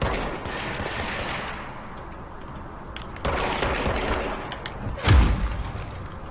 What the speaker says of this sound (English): I hate when ghosts shoot at me.